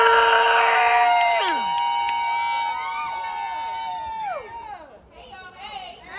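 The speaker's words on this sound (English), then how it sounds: "Let's give a big round of the family applause" A festival crowd at the Odunde street festival cheers and whoops loudly for a poet taking the stage, a sustained wash of voices with rising and falling shouts that thins toward the end.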